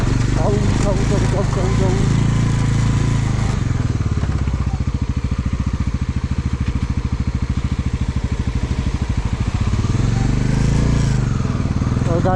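A motorcycle engine thrums loudly and steadily while riding the rough Sach Pass mountain road, with a pulsing mid-speed drone that eases and rises again, and a voice briefly over it.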